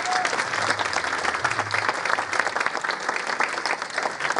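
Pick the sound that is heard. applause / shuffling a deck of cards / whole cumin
applause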